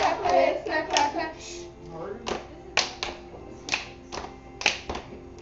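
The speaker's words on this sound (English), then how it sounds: "Hit snap clap a hit snap clap snap" Rhythmic hand hits, finger snaps and claps in a repeating pattern, a series of sharp close percussive strikes evenly spaced, with a voice chanting along at the start.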